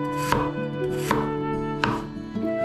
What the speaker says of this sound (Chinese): 胡萝卜和土豆切块